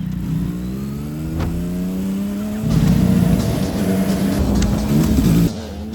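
Big motorcycle engine revving up, rising whining pitch climbing over a few seconds, then a louder burst of throttle with rough roar before dropping back, close and loud.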